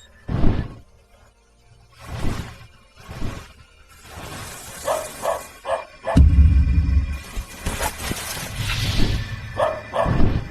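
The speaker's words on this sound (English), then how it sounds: "Why is there a dog barking?" A dog barks in repeated sharp bursts, loud and close, with gaps between barks and some other thumps and noises mixed in.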